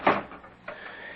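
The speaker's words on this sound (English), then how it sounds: "Would you open the door, please?" A door opening as a radio drama sound effect: a sharp close latch click and knock, then a softer swing and rattle as it opens, heard alone without talk.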